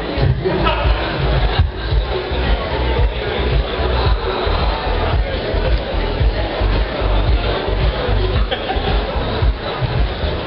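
Applause and crowd noise from the audience at a Dragobete love-declaration contest, loud and sustained throughout with a lively babble of voices mixed into the clapping.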